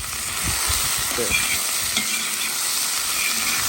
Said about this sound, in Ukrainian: І мішаємо так, щоб підсмажити до золотого кольору.